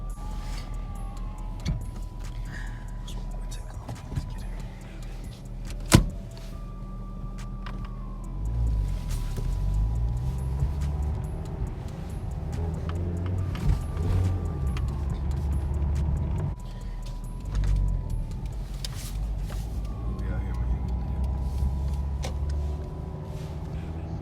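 Toyota Celica GT with a five-speed manual transmission being driven, heard from inside the cabin as a low engine rumble that swells and eases with shifts, plus occasional clicks and interior noises.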